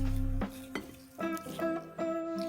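Strawberry cake mix cookie dough is mixed with egg in a bowl, giving a few soft, spaced scrapes and dull knocks of the utensil against the bowl, close and quiet, over a faint background hum.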